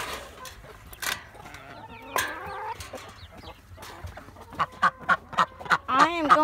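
Broody chickens cluck in a rapid series of short calls close by, with other faint bird noises, including a duck, and a murmur of voices in the background.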